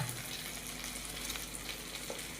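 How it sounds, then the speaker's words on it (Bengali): Egg and onion bhujia frying in a pan, giving a steady, close sizzle with a dense hissing texture that runs without a break. "পেঁয়াজ দিয়ে ডিম দিয়ে ডিমের ভুজিয়া রান্না করছি।"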